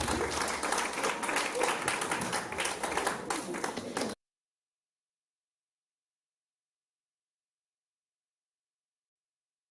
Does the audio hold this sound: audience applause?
yes